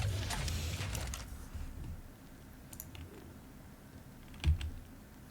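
Computer keys clatter in quick bursts of typing and mouse clicks, loud at the start and then sparser and quieter, closing with a single sharper knock.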